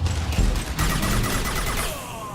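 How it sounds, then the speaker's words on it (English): Heavy gunfire from Mass Effect 2 Legendary Edition comes as dense, overlapping bursts of automatic shots, close and loud, that ease off toward the end. "Taking heavy fire!"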